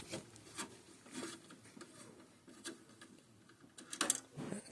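Small screws being driven back into a lamp unit of an NEC MultiSync 820 projector, giving close, soft scraping and rubbing with little clicks and taps, ending in a louder rattle of plastic.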